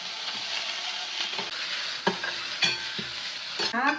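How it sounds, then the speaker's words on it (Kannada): Leafy greens frying in a pan, a bright constant sizzle with a few scraping stirs and clinks from a utensil against the pan. "ಇವಾಗ ಫ್ರೈ ಮಾಡ್ಕೊಳ್ತೀನಿ."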